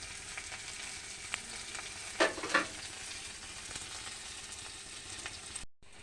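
Garlic paste fries in a pan with a faint, steady sizzle, and two short louder crackles and stirring scrapes come in the middle before the sound cuts off near the end.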